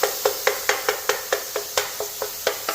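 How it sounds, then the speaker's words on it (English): A wooden spoon stirs half a pound of ground beef in a pan, making about a dozen quick, evenly spaced scraping strokes over a faint sizzle, close and clear with no talking. "let's get in here with Chef Carmen's wooden spoon"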